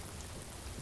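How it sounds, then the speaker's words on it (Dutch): Heavy rain pouring as a stage sound effect during a Dutch theatre play, a steady dense hiss of downpour with low rumble, continuous and fairly loud for under a second with no voices over it. "Ik hoor het bovenin regenen met stralen."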